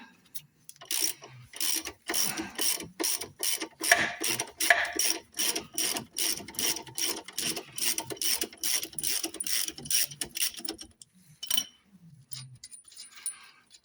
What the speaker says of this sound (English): I'm going to start by cracking off 17mm the bottom of the drop link.